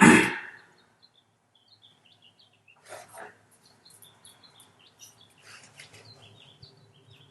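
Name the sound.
birds chirping outside the window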